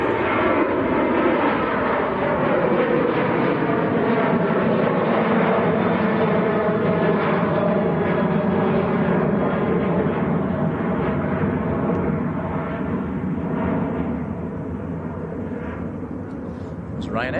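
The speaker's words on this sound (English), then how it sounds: "we've just had a 747 go over" Boeing 747 airliner passing overhead near Manchester Airport, a deep, rich, sustained engine rumble with layered tones that holds strong before easing slightly at the end, with someone talking over it.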